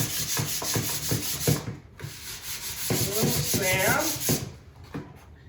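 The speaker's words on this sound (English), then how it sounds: "So first I'm gonna give it a little sand." A small HempWood table being hand-sanded: steady, rhythmic rasping strokes, close and fairly loud, with a short pause partway through and no talking.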